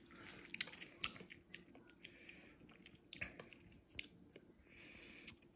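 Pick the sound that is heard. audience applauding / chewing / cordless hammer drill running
chewing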